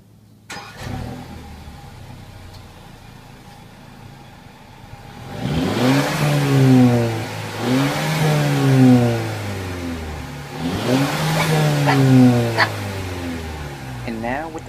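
A 2014 Mercedes-Benz CLA250 Edition 1 with Sport mode off idles quietly, then revs three times in a row. Each rev rises sharply and falls back, loud and close to the exhaust.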